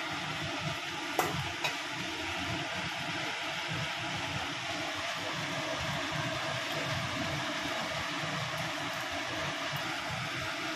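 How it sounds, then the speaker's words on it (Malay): Chicken rendang thickening in a pan as it is stirred, with a steady low sizzle and bubbling throughout and a couple of brief clinks from a utensil early on. "Masa ni kita kena selalu gaul"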